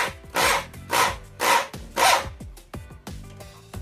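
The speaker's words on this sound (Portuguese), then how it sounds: "Agora nós vamos usar furadeira dessa maneira aqui" A power drill at work while a bolted-plate hammock hanger is installed: four strong grinding bursts about half a second apart, then weaker pulses, close and loud, with no talking.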